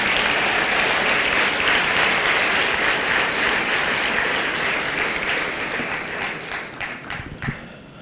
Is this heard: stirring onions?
no